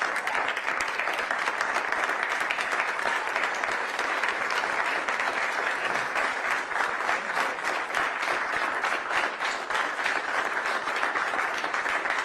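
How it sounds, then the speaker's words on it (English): Steady applause from a large crowd at a political event, dense continuous clapping at even loudness throughout, with no speech standing out. "Everybody's clapping."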